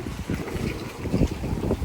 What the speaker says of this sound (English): Whew, it's windy out there, Mila.